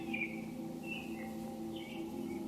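Birds chirp outside a window in a few brief, high, fairly faint calls scattered over a steady background hum.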